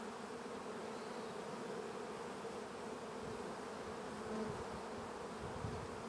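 Honeybees on a nuc frame crowded with nurse bees and fresh queen cups give off a steady, soft hum with a faint drone that holds evenly throughout, heard close and alone.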